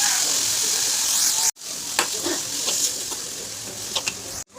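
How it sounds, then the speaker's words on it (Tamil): Mint and coriander leaves sautéing on a hot dosa pan (tawa) for mint-coriander chutney, giving a steady hiss of frying with a few light stirring scrapes; the sizzle breaks off briefly partway through. "அடுத்து புதினா தலையும் கொத்தமல்லி தலையும் போட்டு நம்ம வதக்கி விடுங்க"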